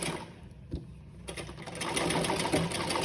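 A sewing machine runs a reinforcing stitch along a blouse neckline, a steady close mechanical whir that grows louder and denser after a brief quieter start, with no talk.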